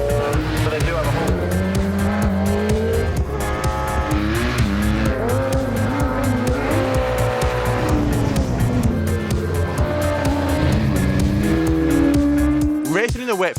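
Racing sidecar outfits lap the wet Cadwell Park circuit at the 2023 Sidecar Revival, engines droning and revving continuously with rising and falling pitch, close and loud throughout, with a final sharp rev at the end.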